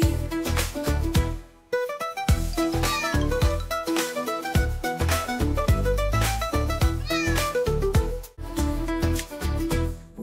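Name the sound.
cat meowing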